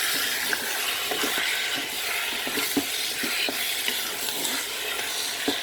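Quail kebssa with garlic and tomato being stirred in a nonstick Cookeo pot, steady close sizzling with repeated soft scraping taps of the spoon.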